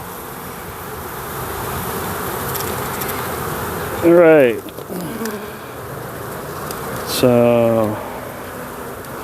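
Honeybees drone steadily and densely at an open beehive during a hive inspection, close and continuous, while someone speaks briefly twice over the buzzing.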